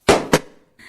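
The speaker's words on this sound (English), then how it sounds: "They weren't bangs, they were loud pops." A balloon burst with a pin gives two sharp, loud pops in quick succession, each decaying fast, followed by a brief fainter sound.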